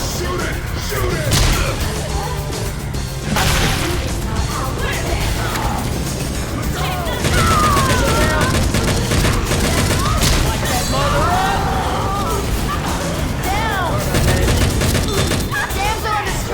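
In Left 4 Dead 2, survivors fire rapid, loud gunshots at the Tank, a dense fusillade with crashes and impacts, while voices shout over the shooting.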